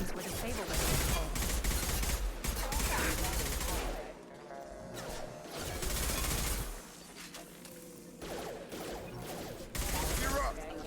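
Rapid automatic gunfire in Mass Effect 2 comes in several loud sustained bursts separated by quieter gaps, with mechanical clatter between volleys.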